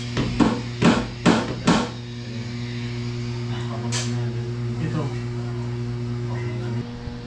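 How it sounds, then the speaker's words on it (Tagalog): Four sharp hammer strikes in quick succession during electrical work in a house, then a fainter knock, over a steady electrical hum with a voice underneath. "Martilyo"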